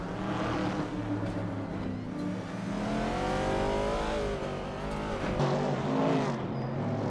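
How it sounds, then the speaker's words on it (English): A 1969 Chevrolet Camaro roars around a racing video game track, its engine note climbing and falling through gear changes amid other racing cars, steady and moderately quiet. "Bot Oscar Wolf is tearing up the track in a 1969 Chevrolet Camaro, starting on pole."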